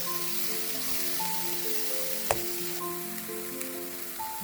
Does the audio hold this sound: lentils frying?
yes